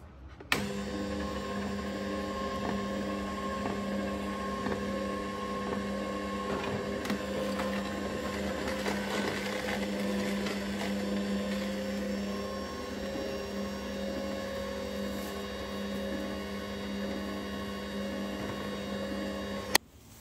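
A Cookwell cold press slow juicer runs on cucumber, carrot and beetroot, giving a steady low motor hum with faint grinding texture for about twenty seconds, beginning and ending with a click.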